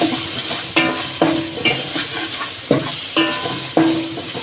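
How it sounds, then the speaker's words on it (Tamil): Curry leaves and coriander leaves are sautéed in a pan for a mushroom gravy: a loud sizzle broken by regular sharp spatula scrapes against the pan, close up, with no voices. "இது கூட ரெண்டு கருவேப்பிலையும் ரெண்டு கொத்தமல்லி இலையும் போட்டு நல்லா வதக்கிக்கிறேன்"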